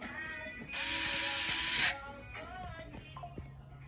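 A screw being driven in by hand while fixing a small device, with a dense ratcheting, mechanical clicking burst of about a second followed by lighter scattered clicks, close and fairly quiet.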